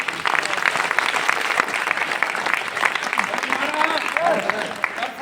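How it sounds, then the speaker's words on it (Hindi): An audience at an RCM motivational gathering claps steadily for several seconds, a dense and fairly loud patter of many hands with crowd murmur and some voices mixed in. "आरसीएम के लिए ताली बजाओ"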